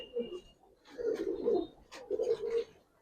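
Giribaz and coloring pigeons in a loft coo in several soft, throaty bursts, close by and fairly quiet.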